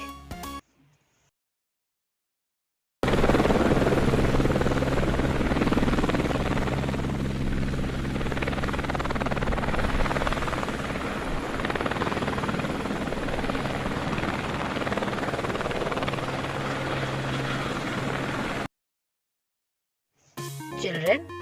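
Helicopter rotor and engine drone, loud and steady for about fifteen seconds, set between short stretches of silence with a voice briefly heard at the start and end.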